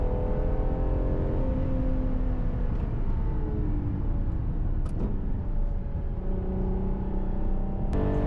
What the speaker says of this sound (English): the coolest thing about the car, which is the engine. Come on, it's pretty badass nowadays to have a V12 in your car.